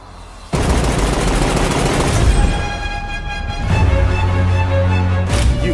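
Loud, dense gunfire in a movie action trailer, a rapid volley of shots that rolls into heavy booms, with a low music swell underneath and no talking.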